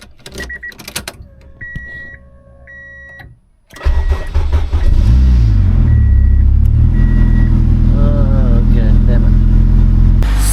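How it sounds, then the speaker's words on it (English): A car engine turns over and catches, settling into a loud, steady running rumble after a few seconds of quieter clicks and chimes. "Let's see if we can start the car."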